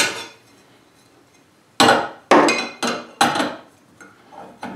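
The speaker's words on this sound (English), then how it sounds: "I'm going to start stacking in these wing cutters, build up the thickness." Steel dado-set wing cutters are stacked one onto another, giving five sharp metallic clanks at uneven intervals, each ringing briefly and decaying, loud and close with no talk.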